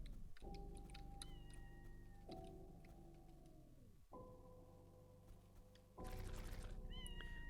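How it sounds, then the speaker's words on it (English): A cat in a video game meows repeatedly in long, drawn-out cries over a steady electronic hum, with a brighter burst of sound near the end. "Where's that meowing coming from? I hear it too."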